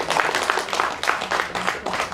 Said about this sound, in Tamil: முதல்ல அவருக்கு ஒரு பெரிய கைத்தட்டல் கொடுத்துருவோம்.